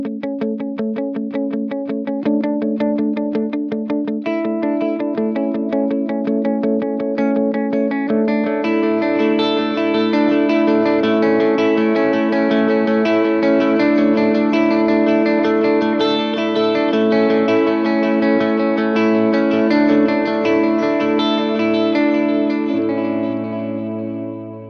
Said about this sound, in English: I'm using one of my tape settings on my Strymon timeline